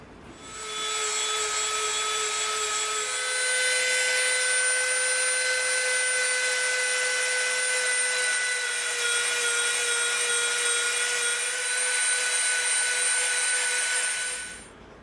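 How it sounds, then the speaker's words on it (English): A Dremel rotary tool bevels the edges of EVA foam with a continuous high-pitched whine, loud and close, rising in after a moment, holding steady with slight pitch shifts, then cutting off near the end. "we're going to start dremeling these edges"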